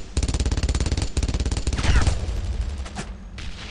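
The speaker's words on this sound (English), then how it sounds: "Suppressing fire! Suppressing fire!" Rapid, loud bursts of automatic gunfire in the World War II shooter Brothers in Arms, a dense rattling fusillade that eases into scattered shots and ambient battle noise.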